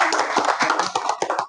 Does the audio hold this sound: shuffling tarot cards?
no